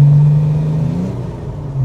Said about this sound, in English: Is it a straight six? Yeah, straight six.